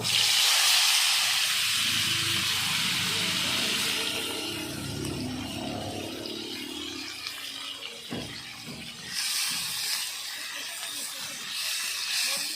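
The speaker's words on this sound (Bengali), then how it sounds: "এবার তেলের মধ্যে পেঁয়াজ কেটে রেখেছিলাম আর টমেটো কেটে রেখেছিলাম, দিয়ে দেব" Chopped onions and tomatoes tipped into hot oil in a pan after fish heads were fried, giving a loud, close hiss and sizzle that gradually settles into a softer crackle, with a few clinks of a utensil.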